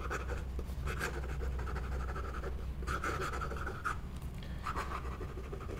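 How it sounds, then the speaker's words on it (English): Nib of a Pilot Vanishing Point fountain pen scratching across paper in close, soft strokes, with short pauses between bursts of writing over a steady low background hum. "So let's do the writing sample."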